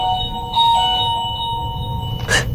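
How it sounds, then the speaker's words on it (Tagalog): An electronic doorbell chimes with clear sustained tones, followed by a brief brighter ding near the end, fairly close and with no talking. "sino kayo nagdo-doorbell dyan na ano?"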